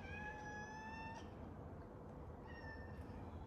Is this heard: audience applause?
no